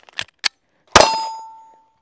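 Pistol shots ring off steel targets during red-dot sight training, two short sharp cracks followed by a louder strike with a long ringing metallic decay.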